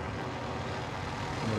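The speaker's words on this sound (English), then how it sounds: "Helicopter. Oh, fucking hell. Heli." A video game helicopter gives off a steady, droning engine and rotor roar that stays even and fairly close throughout, with no talking over it.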